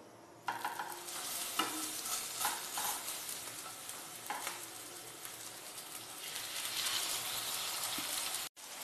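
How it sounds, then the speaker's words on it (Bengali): Spiced eggplant slices hiss and sizzle as they go into hot mustard oil in a frying pan, a steady close crackle with a few sharper spits and stirring bursts. "এবার বেগুনগুলো আস্তে আস্তে তেলের মধ্যে দিয়ে দেব"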